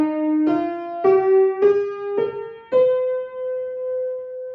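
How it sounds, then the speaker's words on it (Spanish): A minor scale played on a melodic, sustained-tone instrument, six stepwise notes rising one after another in an even rhythm, the last note held long, close and clear with no talking. "la escala menor suena de esta manera."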